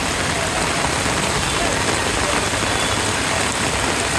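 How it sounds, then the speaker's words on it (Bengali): Heavy rain pours down steadily in Bogura, Bangladesh, a dense, loud roar of drops on hard surfaces with no break. "প্রচুর ধারে বৃষ্টি হচ্ছে"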